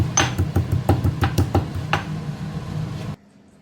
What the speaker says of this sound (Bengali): এই মশলাটা এবার আমি হামানদিস্তার সাহায্যে গুঁড়ো করে নেব।